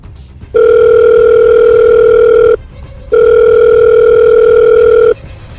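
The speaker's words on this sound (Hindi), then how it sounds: "दीपक प्लीज उठा लो फोन" A telephone tone sounds in two long, loud, steady bursts of about two seconds each, separated by a short pause, with no voices over it.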